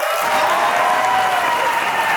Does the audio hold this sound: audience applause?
yes